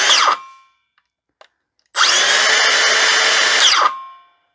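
A Makita DHS680 cordless 165mm circular saw spins up with a loud, high whine, runs steadily for about two seconds, then brakes sharply to a quick stop. An earlier short rev fades out, followed by faint clicks.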